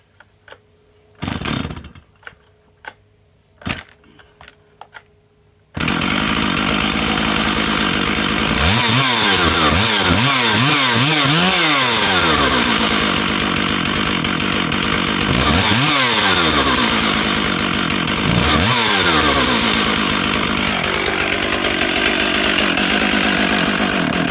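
A Stihl 064 chainsaw with a red lever runs at fast idle after a few short bursts and a quiet start, then holds a loud, steady, close drone with several rising and falling revs.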